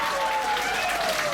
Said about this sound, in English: please give applause for the two groups.